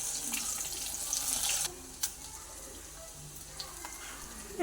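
Green chili, dried chili and curry leaves sautéing in oil for grape pickle make a bright, hissing sizzle that is loud at first and then settles to a softer crackle, with a few clicks of a spoon.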